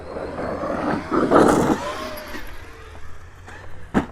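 A Traxxas XMAXX RC car launches off a cliff outdoors, its electric motor whining up briefly before fading, followed by a sharp impact near the end.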